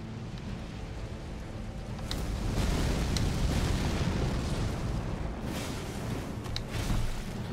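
Explosion attack from the boss Messmer in Elden Ring: Shadow of the Erdtree, a heavy rumbling blast that swells and sustains with a roaring, crackling burst, punctuated by a few sharp hits.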